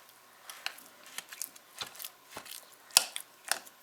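Powdered spices, including garlic, are stirred into a smoked salmon cheese ball mixture in a bowl, giving soft, irregular scraping and squishing strokes with occasional light clicks, close and quiet.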